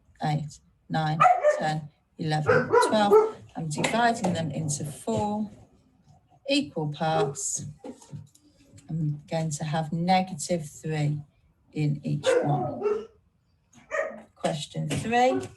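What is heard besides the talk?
dog barking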